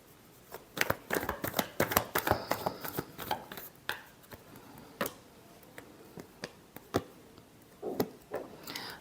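Tarot cards are shuffled by hand in a steady series of crisp riffling flicks and soft slaps, close and fairly loud, with a few brief pauses between bursts.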